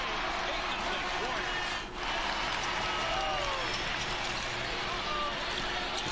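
A basketball arena crowd roars loudly and continuously during a Suns vs Warriors game, a thick wall of cheering with a brief dip before it swells again, heard close up.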